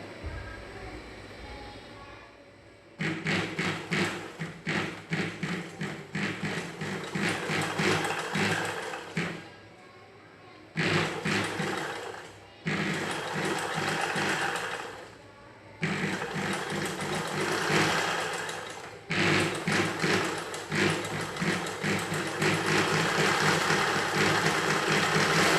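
An electric sewing machine stitches a blouse with a back-neck design, running close and steady in repeated bursts of several seconds separated by brief pauses, with no voices over it.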